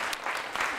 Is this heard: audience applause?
yes